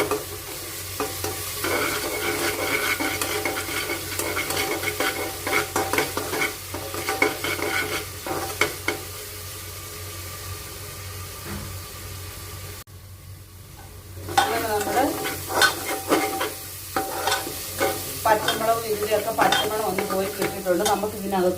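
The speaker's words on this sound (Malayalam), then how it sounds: "അതിന് വേണ്ടിയിട്ട് നമുക്ക് നന്നായി ഒന്ന് ഇളക്കി കൊടുക്കാം ആ പച്ചമുളകൊക്കെ" Vegetables and green chilies stirred in a hot frying pan, continuous sizzling with frequent clattering spatula strokes, close by and steady for the whole stretch with a short quieter dip midway.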